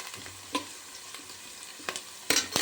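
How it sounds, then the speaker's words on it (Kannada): Onions and green chillies fry in a pan, a low steady sizzle punctuated by a few sharp spoon scrapes and taps, ending with a brief louder hiss. "ಹಂಗಾಗಿ ಸ್ವಲ್ಪ ಗೋಲ್ಡ್ ಕಲರ್ ಬರೋವರೆಗೂ ಫ್ರೈ ಮಾಡಬೇಕು"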